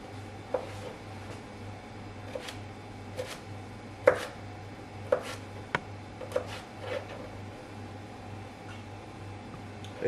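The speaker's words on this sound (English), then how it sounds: "I'm just going to cut down again, about the same size as the slice going down" Knife chopping carrot on a cutting board: a dozen sharp, irregularly spaced taps close by, over a steady low hum, with no talking.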